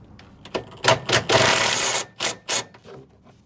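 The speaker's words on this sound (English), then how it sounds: "Just get the ratchet the right way around" A socket ratchet clicks on 18 mm rear suspension bolts under a car in several short quick bursts, with one longer continuous run of rapid ratcheting in the middle, close and crisp.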